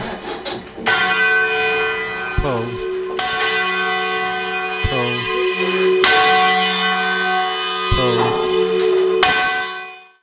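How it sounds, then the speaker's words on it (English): Church bells rung in rounds during change ringing, a loud, close sequence of resonant strikes that descends in a steady, repeating cycle of pitches, with long ringing overtones between blows. "Leading is especially difficult because of the time delay between pulling your bell and the bell striking."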